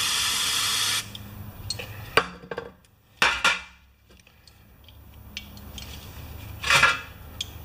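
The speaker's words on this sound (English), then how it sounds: "The carburetor is clean, except I have to do a couple of squirts into the jets here." Spray cleaner squirted into the jets of a Tecumseh 3.5 HP lawn mower carburetor: a strong hissing spray burst, then a few shorter sharp squirts and metallic clicks with quiet gaps between them, close up.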